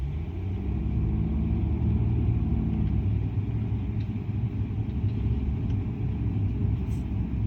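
Nissan Maxima driving at speed, a steady low engine and road rumble that holds even and loud throughout, with no talk.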